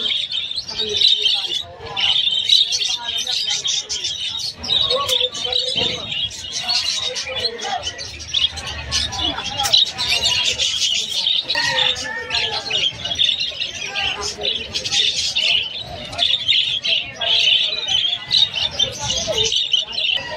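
Parrots and lovebirds at the Malabon pet market keep up busy, overlapping chirps and shrill calls, close and fairly loud, over a faint murmur of crowd babble.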